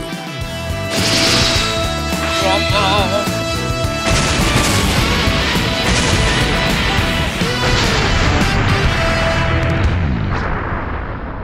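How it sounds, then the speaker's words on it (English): An anime energy-blast explosion from a special beam cannon attack erupts as a loud, sustained roaring boom with crackling debris and layered rumbling. It fills the whole stretch without speech before fading slightly at the end. "With that explosion, that should fix things at Yema's"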